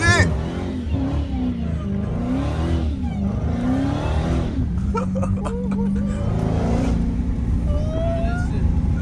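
Chevrolet Camaro ZL1 accelerating on city streets, a loud engine roar surging and shifting pitch under excited overlapping voices, with the car rumbling nearby throughout.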